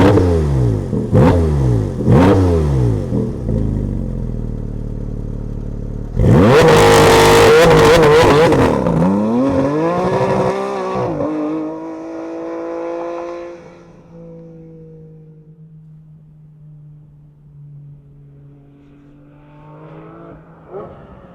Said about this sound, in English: Let's fire up this GT4 RS and hear what it sounds like.